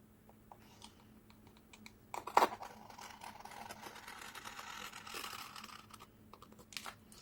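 Canvas being sliced from a corner for a painting frame, giving dry scraping and crisp clicking cuts, with a sharp snap near the start and continuous rasping after it.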